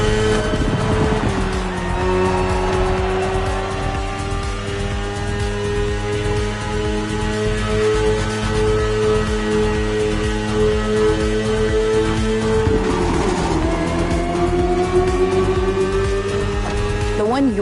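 A BMW S1000RR superbike is ridden in the racing game The Crew Motorfest, its engine holding a loud, steady high-pitched drone that dips and climbs again as the rider shifts near the end.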